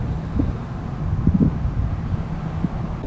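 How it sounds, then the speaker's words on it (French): Low, steady rumble of wind buffeting a microphone in the Florida Keys, with gusty bumps throughout and no voices. "J'espère que vous allez m'entendre avec le vent, parce qu'il y a pas mal de vent."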